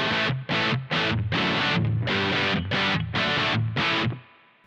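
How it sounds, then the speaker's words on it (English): Electric guitar played through a 100-watt Marshall JCM 2000 TSL 100 valve amp, heavily distorted, with a series of loud chugged chords in short bursts ending in a decaying ring, recorded with no voices. "In this case, I'm using a Marshall JCM 2000 TSL 100,"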